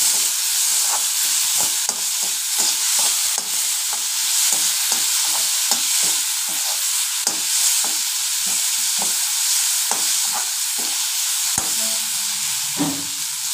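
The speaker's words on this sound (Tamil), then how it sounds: "நெக்ஸ்ட்டு தக்காளி ஆட் பண்ணிடலாம்." Tomatoes with onions sauté in a pan for a leftover-rice dish, producing a loud steady sizzle broken by rhythmic spatula scrapes and knocks every second or so, close up and with no talking.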